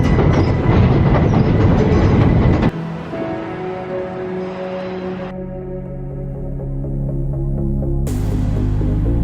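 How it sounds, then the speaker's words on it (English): A train in London rumbles past close behind, loud and steady at first with rhythmic clickety-clack of wheels, then settling into a lower, continuous rolling drone with a brief squeal as it goes by. "Sorry, there's a train behind me."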